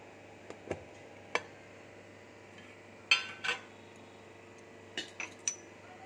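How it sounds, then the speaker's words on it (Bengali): The lid comes off a wok in which a covered steel tiffin box has been steaming egg bhapa, heard as a handful of sharp metallic clinks and taps, close and separated by quiet gaps. "এবার আমি ঢাকাটা খুলছি।"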